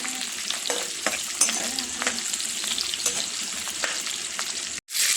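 Onion and garlic sauté in a pan with a dense, even hiss and occasional light stirring clicks, close and steady, cutting out abruptly near the end before resuming.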